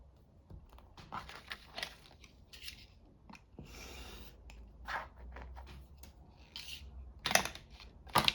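Paper being trimmed with scissors while a journal is assembled from a kit: several short crisp snips and rustles, close and fairly quiet, with no talking.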